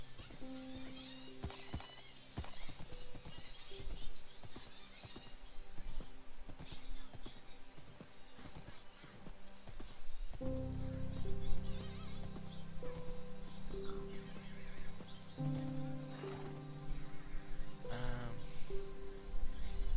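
Horse neighing and hooves clip-clopping in the Minecraft video game, in hardcore mode, with repeated whinny calls and steady hoof clatter layered over game music and ambient sounds throughout.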